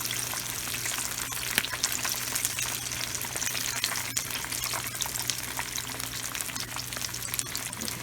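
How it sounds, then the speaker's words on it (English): Chicken pieces sizzle and crackle steadily in hot oil, a dense, continuous frying hiss with small pops throughout. "give the bigger pieces a little more time, frying time"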